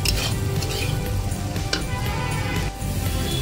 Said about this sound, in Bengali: ম্যাগিটা দিয়ে আমি খুব সুন্দরভাবে নেড়ে দিয়েছি, ভালো করে নেড়ে দিচ্ছি